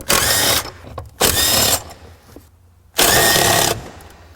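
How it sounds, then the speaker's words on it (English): Steering column fasteners being removed on an Acura Vigor with a power tool, three separate loud whirring bursts of about half a second each, separated by short quiet gaps, close by. "Now we just remove the fasteners for the steering column."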